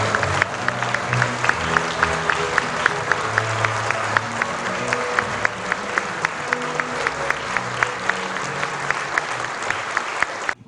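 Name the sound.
audience applause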